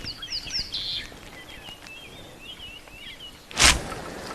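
A violet-backed starling perched atop a dead leadwood tree on a safari calls outdoors in a series of thin, high chirps and short whistled phrases, moderately near and fairly soft, with a louder sharp burst near the end.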